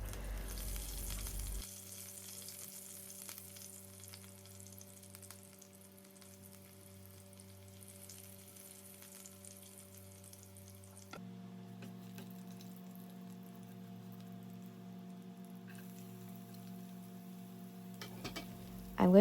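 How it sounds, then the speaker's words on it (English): Cumin and mustard seeds frying in hot oil for an Indian cabbage and potato sabji, a steady close crackling sizzle with a constant low hum underneath and no talking. "adding some cumin and mustard seeds into the hot oil and let them pop"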